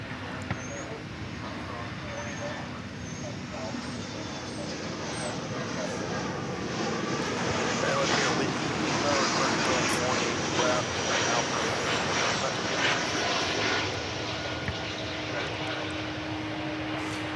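A jet airliner at DFW Airport roars down the runway on takeoff, a broad distant rumble that swells and holds steady throughout.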